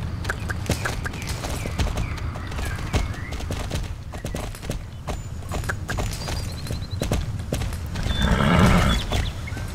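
A horse ridden in the game Star Stable trots with quick, regular clip-clop hoofbeats close up, then a short whinny rises near the end.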